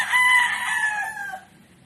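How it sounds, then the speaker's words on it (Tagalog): A rooster crows loudly and close in a single drawn-out call that fades at the end, with faint clucking from chickens underneath. "Ang ingay nila, no? Chicken po namin yun."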